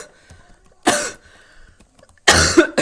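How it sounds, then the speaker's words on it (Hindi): A person coughs twice, close and loud: one harsh burst early, then a second longer fit after a quiet pause. "एक तो पता नहीं खांसी क्यों नहीं ठीक हो रही है"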